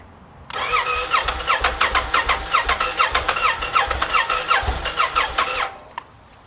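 A motorcycle engine cranks on its starter after being given fresh fuel, making a rapid rhythmic chugging for about five seconds, loud and close, before falling quiet without clearly catching.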